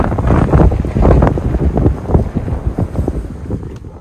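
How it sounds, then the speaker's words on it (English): Strong, gusty wind buffets the microphone in loud, continuous rumbling blasts, with no voices. "it's too windy today"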